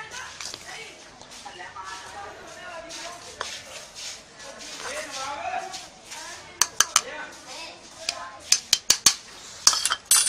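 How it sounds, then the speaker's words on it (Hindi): A spoon stirs and scrapes in a metal pot while ingredients for a majoon confection are mixed, with a series of sharp clinks toward the end. The clinks are fairly close, and someone talks over the first part. "इहनूं हुण अच्छी तरह मिक्स करने आ।"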